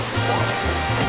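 A steady, loud wash of rushing water from a waterfall in the Super Mario 3D World video game, continuous and unbroken through the moment.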